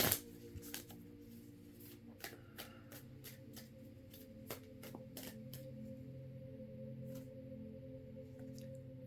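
Tarot cards being drawn and handled from a deck, faint soft flicks and snaps of card stock at irregular intervals, close and quiet over a low steady hum.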